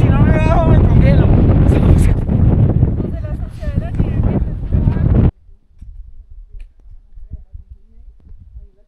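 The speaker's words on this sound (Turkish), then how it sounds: "Felaket bir rüzgar." Strong mountain wind in El Cocuy National Park, Colombia, buffets the microphone with heavy rumbling gusts under a person talking, then drops abruptly to a much quieter, sparse background for the last few seconds.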